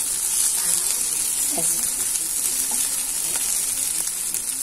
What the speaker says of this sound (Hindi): ये शैलो फ्राई हो रहे हैं, अब हम इन्हें पलटेंगे